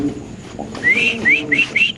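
A large pigeon of a Spanish or Indonesian fancy breed calls close by in four quick, rising whistled coos after a faint low murmur, each note short and bright and closely spaced.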